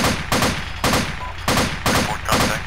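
Gunfire in the military shooter game Arma 2 with the ACE mod, during a rooftop firefight: five or six loud, sharp bursts of rifle fire at a steady, evenly spaced rhythm, close and dominant.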